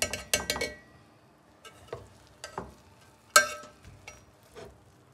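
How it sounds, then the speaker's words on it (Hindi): Cooked kabuli chicken pulao is stirred in a pot with a utensil, producing sharp scraping clinks in quick clusters followed by sparser, softer knocks, close and alone without talk. "इसको अच्छी तरह मिक्स करेंगे हम पहले।"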